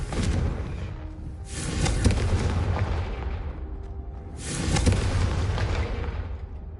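Confringo blasting spell in Hogwarts Legacy, two heavy booming explosions a few seconds apart, each a loud rumbling burst fading into a dense low roar.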